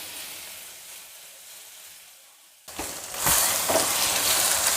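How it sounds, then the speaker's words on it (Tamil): Potatoes and masala sautéed in oil begin with a sudden loud hiss that swells into steady, close sizzling, with a few scraping stirs after a quiet stretch. "இப்போ அந்த எண்ணெயிலே அப்படி வதக்கிடலாம்"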